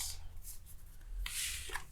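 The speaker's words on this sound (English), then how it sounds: "I'm going to keep shuffling" Tarot cards being shuffled by hand, a soft close papery rubbing and riffling, quiet with a brighter flurry near the end.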